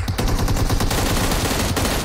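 Rapid bursts of gunfire crackle loudly in quick succession, automatic weapon fire from the game PUBG Mobile.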